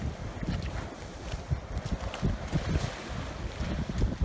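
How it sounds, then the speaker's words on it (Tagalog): Strong sea waves surge against rocky cliffs at Bangol Crags in Agno, Pangasinan, a rumbling low wash under heavy gusting wind buffeting the microphone, with no voices. "Kapag ganito na ano pag ganito na malakas yung alon."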